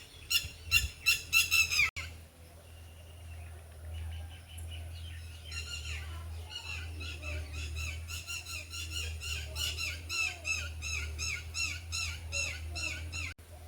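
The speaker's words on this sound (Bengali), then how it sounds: "হটটিটি পাখিটা ডাকছে" Repeated shrill, squawking calls of a red-wattled lapwing ring out in bursts, sharp and fairly close, with quieter stretches between over a low steady hum.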